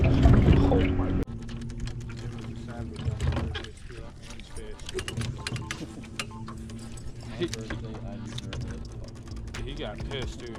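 Outboard motor on a fishing boat, started by another fisherman on a river, churns steadily at a moderate distance, with a rough knock at the start and water and boat noise mixed in throughout.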